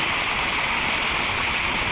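A small mini waterfall stream near Kharghar dam rushes in a steady, close, broadband wash of flowing water, with no voices.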